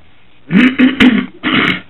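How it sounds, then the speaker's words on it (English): A person clears their throat several times in quick, rough, gravelly bursts, close and loud, with a short pause before a final rasp. "Just clear my throat."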